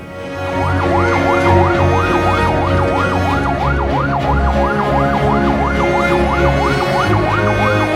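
A loud wailing ambulance siren sweeps up and down rapidly and repeatedly, close by, over the low rumble of the ambulance's engine.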